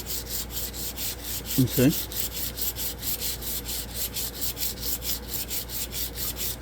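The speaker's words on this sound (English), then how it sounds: "Takes ages to sand them down nicely, doesn't it?" Wooden handle of a bronze knife being sanded by hand: a steady back-and-forth rasp repeats in an even rhythm, close by, with a short spoken word and low voices briefly over it.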